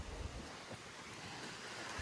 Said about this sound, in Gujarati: અને ઠંડો પવન આવે છે